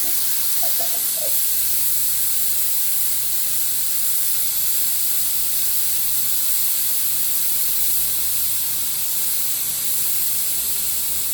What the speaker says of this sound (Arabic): بس تطلع البخار بفتحها الطنجرة